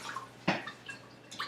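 A cup of cold water is poured into oil for pastizzi dough, giving a short splashing gush with light dripping and gurgling, close and fairly quiet.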